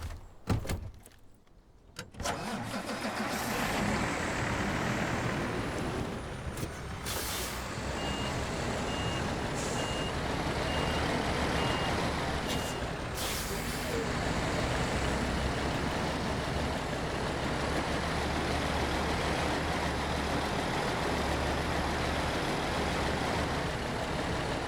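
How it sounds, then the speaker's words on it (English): A truck engine drones steadily as it works around a water hole on an off-road rail trail, with a brief clunk early on and faint high beeps over the continuous rumble. "I'm gonna see if I can get around the water hole with that other truck"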